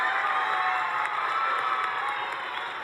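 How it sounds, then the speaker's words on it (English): Audience at a student citizenship challenge event applauds and cheers steadily, a dense wash of clapping and shouting voices that stays loud throughout. "Let's give Ivan a round of applause, everyone."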